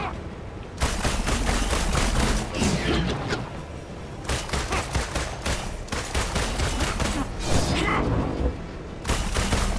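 Sustained automatic gunfire in Marvel's Avengers, dense rapid shots with a few heavier booms, keeps going almost without a break across the whole stretch, loud and close.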